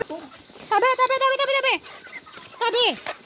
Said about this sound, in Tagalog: puti ra na sila nga manok